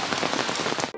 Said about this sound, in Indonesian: Hujan tiris.